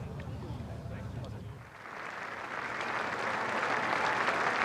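Golf spectators at the 146th Open Championship applaud the Masters champion, a broad wash of clapping that starts thin beneath a commentator's voice and swells into sustained, louder applause from a distant crowd.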